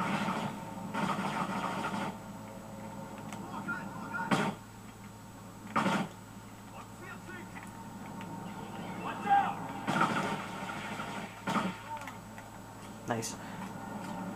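Gunfire from the video game Kane & Lynch 2: Dog Days comes as sharp, repeated bursts and single shots over a low, steady background hum, with speech in places.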